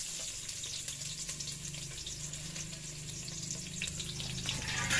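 Chopped onion frying in hot oil for a spicy fish curry, a continuous bright sizzle heard close and alone that swells slightly toward the end.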